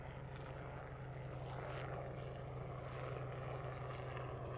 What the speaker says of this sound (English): The noise you're hearing is the helicopter just passing overhead.